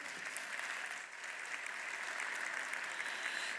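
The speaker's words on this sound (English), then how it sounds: "Let's give another round of applause for His Excellency." An audience applauds after a speech at a formal ministry event, giving steady, dense clapping that stays fairly faint and even throughout.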